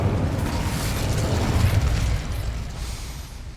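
Casting the Incendio fire spell in Hogwarts Legacy unleashes a loud, rumbling whoosh of flame that roars for a few seconds and then slowly fades.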